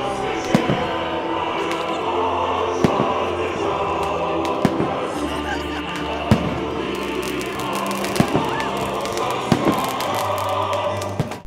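New Year fireworks bursting over a Crimean district for 2015, a string of sharp irregular bangs and thuds over a steady wash of crowd noise and crackle, some blasts close and loud.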